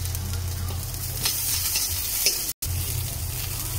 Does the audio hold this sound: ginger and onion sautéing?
yes